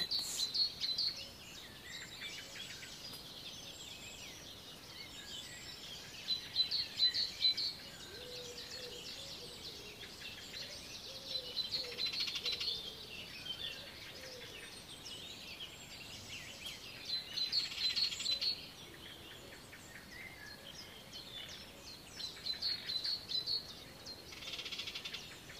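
Birds call and chirp at daybreak around 6:30 in the morning, with bright, repeated bursts of song rising and falling over a quiet background, some nearer and some farther off, no talking.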